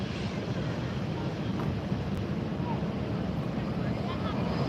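A Delta Boeing 737-800 at Los Angeles airport turns onto the runway and rolls straight into its takeoff, a broad, steady engine roar with wind buffeting the microphone throughout.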